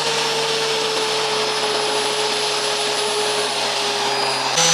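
A home-built flour mill grinding wheat gives a loud, continuous, even roar with a high whine that runs steadily throughout, with no voices.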